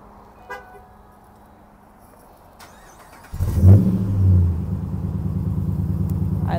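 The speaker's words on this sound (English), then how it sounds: "I'm going to remote start the truck from back here just so we can hear that exhaust one more time" A 2013 Ram 3500 SLT crew cab 4x4 pickup fires up by remote start after a quiet moment, its exhaust bursting into a loud rumble, then settling into a steady, deep idle heard from nearby.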